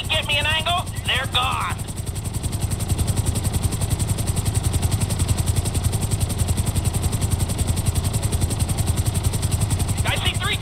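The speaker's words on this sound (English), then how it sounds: "I see three choppers." Steady rhythmic chopping of three helicopters' rotors in GTA 5, loud and close, with brief radio-like chirps at the start and end.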